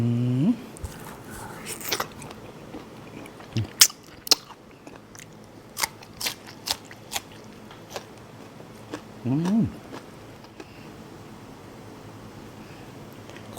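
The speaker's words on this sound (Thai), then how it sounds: "เสือร้องไห้ส่วนเป็นข้าวนี่นะครับส่วนนี้ กรุบกรุบกรอบดีครับ" Someone chews crying tiger grilled beef with rice, a series of sharp crunchy bites spaced irregularly close to the ear, with a few short vocal sounds around them.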